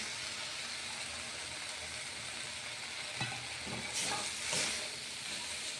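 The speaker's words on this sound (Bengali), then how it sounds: "বাদবাকি মশলাগুলো দিয়ে দিলাম। দিয়ে একটু ভালো করে কষিয়ে নেব" Ground turmeric, cumin, garam masala and black pepper fry in a pan with a steady, faint sizzling hiss, with a few louder scraping stirs toward the end and no talk.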